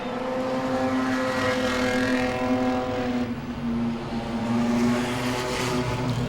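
Race cars circulating at a Langley Speedway enduro, a sustained layered engine drone from several cars at once, holding steady pitch with a slight dip midway, continuous and fairly distant.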